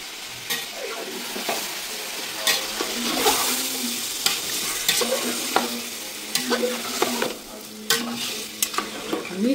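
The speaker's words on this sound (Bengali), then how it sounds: "তো এখন দিয়ে দিচ্ছি গরুর মাংস।" Beef pieces frying for a large-batch biryani while being stirred, a continuous sizzle punctuated by frequent sharp scrapes and clanks of a spoon against the pot, close up, with no speech.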